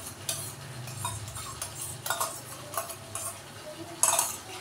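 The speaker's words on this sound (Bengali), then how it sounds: "দিয়ে মশলার সঙ্গে ভালো করে মিক্সড করব" Yogurt being stirred into spice paste in a pan, a utensil scraping and clinking against the metal in short irregular strokes, close and fairly quiet.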